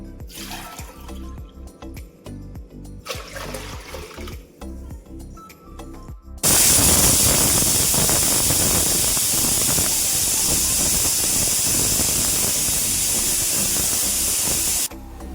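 A pressure cooker cooking soaked rice for sweet pongal vents steam, with soft intermittent hissing puffs that give way to a loud, sustained, close jet of steam lasting several seconds, with no talking.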